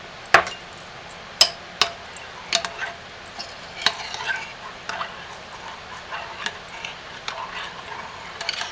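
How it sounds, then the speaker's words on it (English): A spoon stirring melt and pour soap mixed with a teaspoon of activated charcoal colorant, giving irregular close clicks and taps against the container over a faint background hiss, with no talking. "We're going to stir well."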